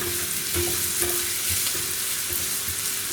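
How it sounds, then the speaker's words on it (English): Onions sizzle with garlic in a hot pan for a broccoli and carrot soup, a steady close frying hiss broken by soft periodic scrapes and stirring taps, with no talking. "And saute the onion."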